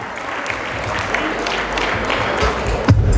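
Wedding guests at a sangeet night in Dubai applaud the couple with steady, sustained clapping that fills the room, a faint voice underneath.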